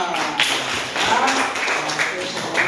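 A dense patter of clapping for a student in an online class, sustained throughout at even loudness, with faint voices mixed underneath.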